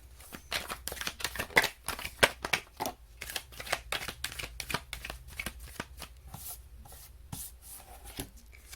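Tarot cards are shuffled close up in a steady run of crisp riffles and soft slides, busy and continuous, with no voices.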